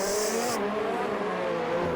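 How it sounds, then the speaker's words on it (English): A Ferrari race car in an Australian Grand Prix video game roars past the finish line, a steady loud engine drone with a shifting pitch and a brief high whine at the start. "Ferrari comes around the final corner to take the checkered flag of the Australian Grand Prix"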